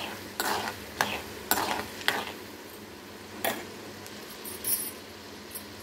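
Mustard seeds and dried chillies fry in hot oil for tamarind rice, giving a steady low sizzle broken by several sharp crackles and pops that flare and fade over a few seconds.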